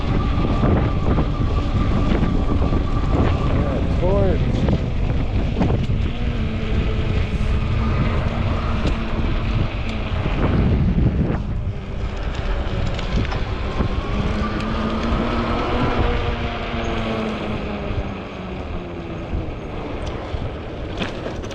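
Strong wind roars and buffets the microphone nonstop while riding a 20-inch Ecotric folding fat-tire e-bike outdoors, with a loud, broadband rush and faint motor whine underneath.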